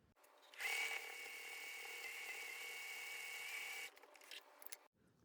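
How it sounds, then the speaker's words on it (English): A sewing machine stitches a fabric phone pillow, running as a steady high mechanical whir for about three seconds, then stopping with a few short stuttering bursts; quiet and close. "Now let's sew again."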